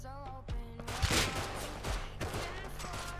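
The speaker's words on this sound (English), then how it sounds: "I'm getting shot from behind." Gunfire in the survival game Rust: a few sharp shots crack close amid a dense, noisy game soundscape with low rumbling, fairly quiet overall.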